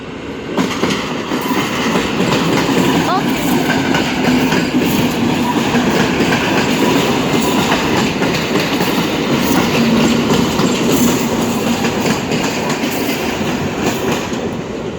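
EP08 electric locomotive hauling a train through Warszawa Wschodnia station, a steady loud rumble and rolling clatter of wheels over rail joints that fills the whole stretch without letup.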